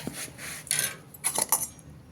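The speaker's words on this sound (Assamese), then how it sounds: "এয়া এতিয়া চেকি লওঁ, চাকনিখনে চেকি লৈছোঁ বাতি এটাত" Homemade cow's ghee is strained through a metal strainer into a bowl, with a few light metallic clinks and scrapes of utensils against the bowl in short bursts, close by and fairly quiet.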